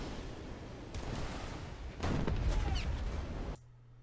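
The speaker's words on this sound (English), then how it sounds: "You can see here that the rockets are effective." Rockets fire from a J35A jet in the War Thunder video game as a few quiet, sharp bursts over a steady rushing background, ending abruptly.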